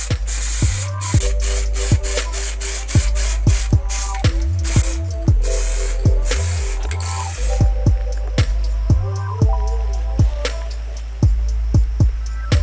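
Repeated hissing bursts of an aerosol spray can coating a welded steel tow hitch for a ride-on lawn mower, loud and close, in short regular pulses with brief pauses between them.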